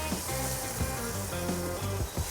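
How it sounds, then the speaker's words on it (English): Grouper fillet topped with blackened seasoning sears on one side in a very hot pan, giving a steady, close sizzle that runs the whole time beneath louder background music. "I'm just doing one side, high heat pan sear"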